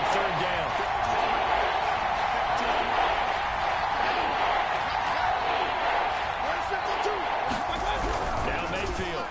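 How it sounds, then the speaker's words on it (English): A stadium crowd at an American football game, Browns against Washington, roars steadily as a broad wash of cheering, with a commentator talking over it throughout. "The crowd getting into it as we come up on a big third down."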